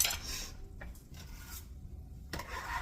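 Chopped onion scraped off a cutting board into a pot for shrimp étouffée, heard as quiet rasping scrapes in a few short strokes, close and soft, with no talk.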